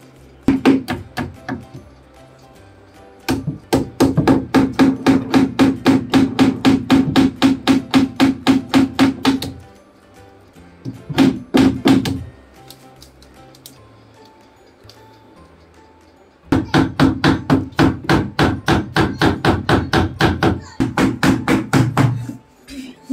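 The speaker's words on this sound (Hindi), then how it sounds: "ये एक कील तो इन्होंने यहाँ पे ठोक दी इधर ऊपर, और एक साइड में अभी लगाएंगे" A nail is hammered into an old wooden bed frame with rapid, sharp, evenly spaced blows, loud and close. The blows come in long bursts, separated by short pauses.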